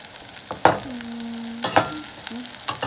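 Food frying in olive oil in a pan on high heat, a continuous close sizzle broken by several sharp stirring knocks and scrapes.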